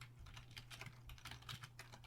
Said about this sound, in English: That is a lot of typing.